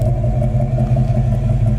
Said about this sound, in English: It's got the correct trumpet GT exhaust coming out the back with that great GT sound.